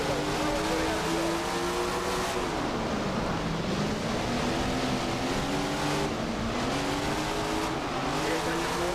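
Sprint cars race in Tony Stewart's Sprint Car Racing, their engines a loud, constant, buzzing roar that rises and falls in pitch as they sweep around the track.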